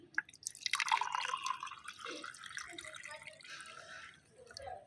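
Homemade organic, potassium-rich liquid fertilizer pours into a glass with a trickling, dripping splash that is loudest at first and then settles into a thinner trickle.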